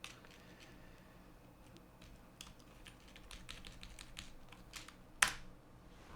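Quiet, close keystrokes on a computer keyboard tap out in an irregular run, ending in one sharper, louder key hit near the end.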